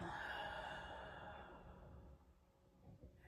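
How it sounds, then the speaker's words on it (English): A slow, soft exhale of breath during a guided yoga and meditation session, a broad airy rush that starts fairly strong and fades gradually over about three seconds, close and alone without speech. "And exhale."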